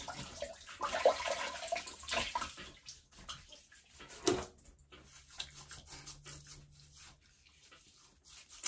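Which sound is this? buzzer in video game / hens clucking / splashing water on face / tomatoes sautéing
splashing water on face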